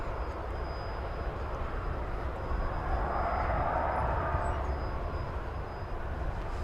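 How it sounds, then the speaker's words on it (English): A United Boeing 737-800 takes off from runway 18 left at DFW Airport, its engines a broad, distant roar that swells and peaks midway before easing slightly, steady and unbroken. "United 1184 on the B Park, runway 18 left, cleared for takeoff"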